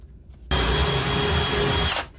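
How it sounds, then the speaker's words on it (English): A power drill with a larger bit runs steadily for about a second and a half, enlarging a hole in a small wooden house wren outhouse; loud and close with an abrupt start and stop. "Drill that out a little bit."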